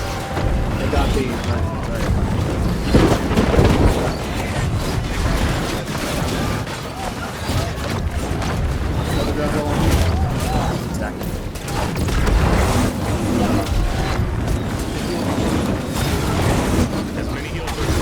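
Siege cannons firing in a video game battle make dense, continuous rumbling booms and mechanical clatter, steady and loud throughout, with players talking over the fighting.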